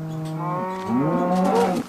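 A cow in the video game Minecraft gives a single drawn-out moo, rising in pitch midway and swelling louder toward the end, heard close and alone.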